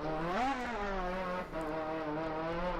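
Rally car engines revving hard in Farming Simulator 15, a buzzing, angry-sounding whine that climbs and falls in pitch, loud and continuous with no talking over it.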